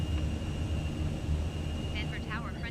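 Airliner climbing out after takeoff from Denver in Microsoft Flight Simulator 2020, a steady engine roar with a faint high whine running throughout, continuous and even, with brief chirping sounds near the end.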